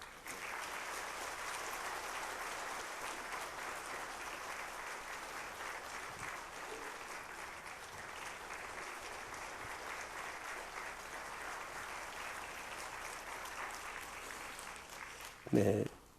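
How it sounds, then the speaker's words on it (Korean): A church congregation bursts into warm, sustained applause for a newly expanded fellowship group, steady dense clapping filling the room for about fifteen seconds before a brief louder knock near the end. "뜨거운 박수로 축하하고 격려해 주시면 감사하겠습니다"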